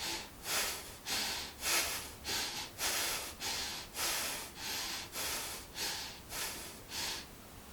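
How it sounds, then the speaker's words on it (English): Long, deep breaths taken while holding a yoga posture, around ten airy, rhythmic inhale-exhale cycles at a steady pace, close and fairly quiet, with no talking. "Long deep breaths."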